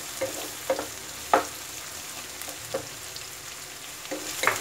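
Garlic, cauliflower and potato fry in a pan for a cauliflower pepper fry, giving a soft, steady sizzle broken by a few sharp clinks of a spoon stirring, quiet and close with no talk.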